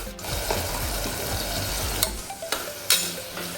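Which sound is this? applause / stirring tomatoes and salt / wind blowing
stirring tomatoes and salt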